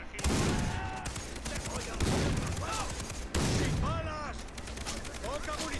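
Rapid gunfire bursts from a shotgun and other weapons in the video game Far Cry 3, loud and repeated across the clip, with voices talking over the shooting.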